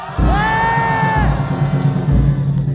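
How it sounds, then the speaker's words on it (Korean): A crowd at a Yoon Suk-yeol presidential campaign rally in Hoengseong, Gangwon Province, roars and cheers loudly, with whoops rising over a steady wall of voices and a rhythmic thumping beneath. "횡성 국민 여러분 함성 한번 주세요."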